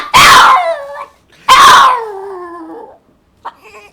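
A dog lets out two loud, drawn-out whining yelps close by, each sliding down in pitch, followed by a softer short whimper.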